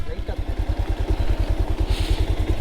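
A motorcycle fitted with an aftermarket exhaust idles close by, giving a steady, loud, rapid low thumping pulse that runs throughout.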